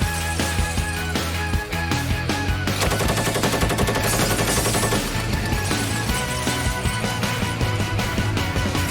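Sustained, loud machine-gun fire from a tank in World of Tanks, rapid continuous bursts with dense rattling that fills the whole stretch with almost no pause.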